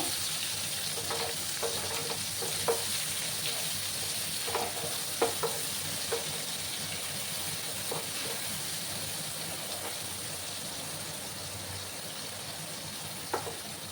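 Chopped onions frying in oil in a pan, a soft, continuous low sizzle with occasional faint clicks of a spatula stirring, fairly quiet and steady throughout, with no talking.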